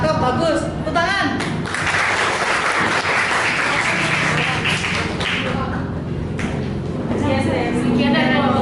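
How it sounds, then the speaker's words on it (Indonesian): Audience applause after a school group presentation, a broad steady wash of clapping running throughout, with voices talking over it. "Tepuk tangan."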